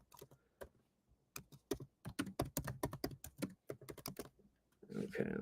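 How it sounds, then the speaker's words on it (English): Close, clear keystrokes on a computer keyboard come in quick bursts and short pauses, ending with a rustling shuffle. "I'm going to type in St."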